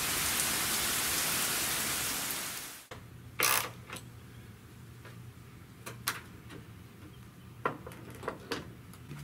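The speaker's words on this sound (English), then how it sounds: "something about the rain sometimes, it's really nice, especially on a hot summer day, and it just comes down like this" Steady rain falls outside a garage on a hot summer day, a loud hissing wash that fades out after about three seconds, leaving quiet room tone with scattered mechanical clicks and taps.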